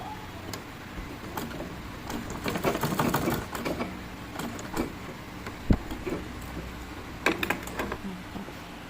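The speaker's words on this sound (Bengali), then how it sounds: "এবার মেশিনটা আবার ঘুরিয়ে আমি এখান থেকে সেলাই করে দেব। ডবল সেলাই দেব যাতে না খুলে যায়।" A home sewing machine stitches a square-neck nightie, running in short bursts with pauses between and some clicking and handling noises, close and moderately loud.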